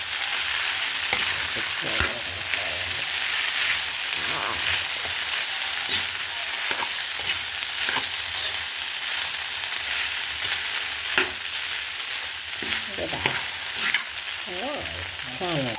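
Cooked rice sizzles and crackles steadily while being stir-fried in oil in a pan for fried rice, close and continuous, with occasional scraping of the spatula and no talking.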